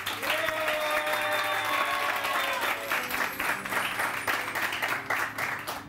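Studio audience on a Pakistani morning TV show applauds the guests with loud, sustained clapping that fills the whole stretch, a steady crowd roar of hands with a faint tone lingering early on.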